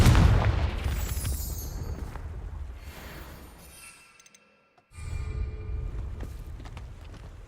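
A Confringo blasting spell in Hogwarts Legacy goes off as a loud, booming explosion that rumbles and fades over several seconds, drops to near silence, then gives way to more rumbling blasts.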